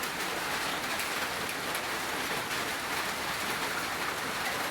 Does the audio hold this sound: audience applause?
no